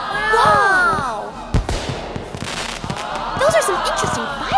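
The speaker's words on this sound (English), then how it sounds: "Those are some interesting fireworks." Cartoon fireworks bursting over a Fourth of July parade, with sharp pops and crackles between whistling, sliding tones that rise and fall, loud and busy with faint crowd noise beneath.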